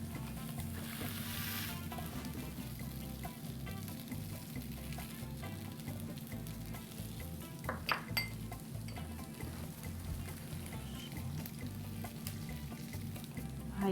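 Scallions char on a hot grill with a steady low sizzle and hiss, scattered soft pops and a few faint clinks, fairly quiet and close, with no speech.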